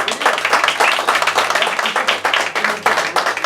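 Lively audience applause breaks out at a hypnosis show, a loud, dense patter of many people clapping with slight rhythmic surges and no speech over it.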